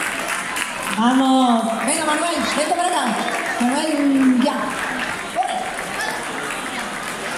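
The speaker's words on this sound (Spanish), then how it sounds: "Un aplauso merecidísimo." Audience applauding at a wine festival in Alhama: a continuous patter of clapping from a crowd, running under several lively voices calling out in Spanish.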